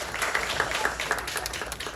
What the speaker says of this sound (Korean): 예, 다시 한번 박수로 이 팀을 좀 격려하겠습니다.